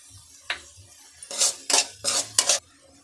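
A spoon scrapes and clinks against a pan while thick egg keema gravy is stirred, four distinct knocking strokes after one lighter tap, close and alone with faint background hum.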